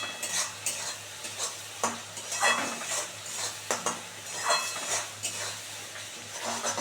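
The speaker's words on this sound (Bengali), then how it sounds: "এবার একটু কষে দেখো মশলা থেকে সুন্দর করে তেল ছেড়ে দিয়েছে" Spice masala with fully melted tomato is stir-fried in oil for a koi fish curry, producing close rhythmic scraping strokes of a spatula over a soft continuous sizzle and a low steady hum, with no talking.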